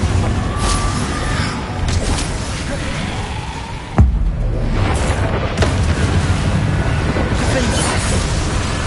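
A Confringo fire spell explodes in the Hogwarts Legacy video game on PS5. One sharp boom lands midway through a continuous rumbling, whooshing battle din.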